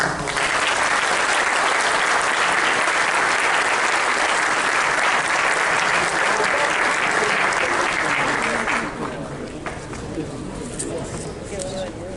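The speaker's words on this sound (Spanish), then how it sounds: "Un aplauso." Sustained audience applause fills a conference hall after an energy efficiency forum panel, loud and dense for about nine seconds before thinning out, with some background bird-like chirps near the end.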